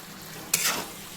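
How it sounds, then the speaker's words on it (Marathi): Five grated eggs with a little chopped coriander being stirred and mixed in a hot pan for anda ghotala, two short bursts of scraping and sizzle over a quiet background. "आता याला करते मी मिक्स थोडी कोथिंबीर पण टाकते"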